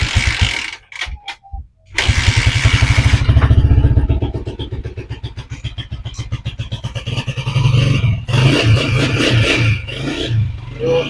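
A Honda TMX155 motorcycle engine starts after a couple of sputters and settles into a loud, steady idle with rhythmic low thumping, rising briefly in pitch later.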